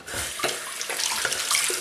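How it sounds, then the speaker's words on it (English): Tap water runs steadily to rinse a razor, a GEM Micromatic open comb safety razor, with a few splashy bursts as the blade passes under the stream, close and fairly loud. "Rinse the razor."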